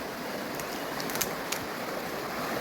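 A trash-strewn river in Macedonia flows with a steady, broadband rushing wash that stays even and unbroken throughout, with a few faint higher splashes and no voices.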